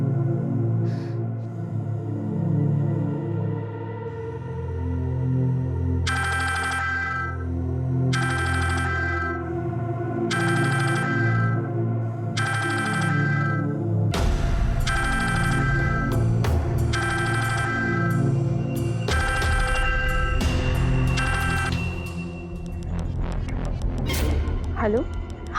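A phone rings in repeated bursts with short gaps as a call is placed late at night, mixed with background music and occasional voices underneath.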